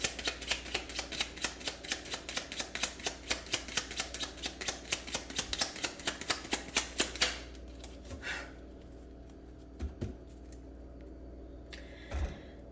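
A deck of tarot cards is shuffled in a long run of rapid, crisp clicking riffles for several seconds, followed by a few soft, scattered card sounds.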